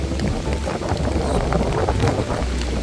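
Loud, steady wind roars and buffets continuously around a farm tree house, with gusty rushes and rustling throughout and no speech.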